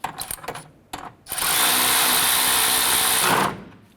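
Power tool snugging down an AC line bolt on a 2009-2015 Honda Pilot during a timing kit and water pump job: a couple of brief clicks and taps, then a loud, steady whir for about two seconds.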